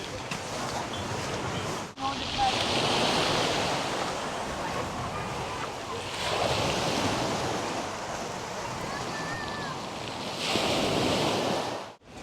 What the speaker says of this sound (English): Look where this has come out, straight to the beach.